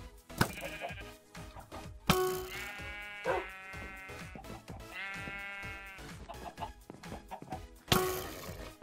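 Repeated sheep bleats from the video game Farmhunt, several harmonic wavering calls at close range with game noise and a voice in the background.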